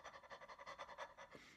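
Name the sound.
imitation of fast dog-like panting breath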